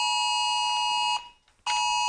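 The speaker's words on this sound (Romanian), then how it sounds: "E o alarmă pe care o să oprim. Despre dispariția unui copil." A phone's emergency alert about a missing child sounds as a loud, piercing, steady electronic tone that cuts out briefly and then resumes at full strength.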